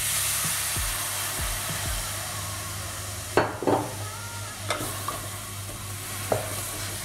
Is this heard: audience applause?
no